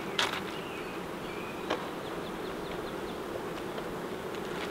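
Steady buzzing of many honey bees at a hive fills the air, a dense drone with a few individual bees zipping close by.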